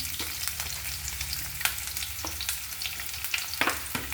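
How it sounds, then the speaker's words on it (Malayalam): Curry leaves and coconut bits dropped into hot coconut oil for a jackfruit-seed fry: a dense, continuous sizzle heard close up, broken by occasional sharp pops and crackles, with no voices. "ഇനി ഇതിലേക്ക് കുറച്ച് കരിയാപ്പിലയും കുറച്ച് ചകോളയും കൂടെ ഇട്ട് കൊടുക്കാം"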